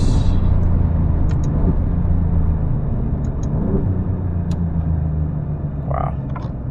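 A 2024 Alfa Romeo Giulia Quadrifoglio engine rumbling steadily under acceleration from inside the car, with brief breaks and pops at each gear shift and a person talking over the drive.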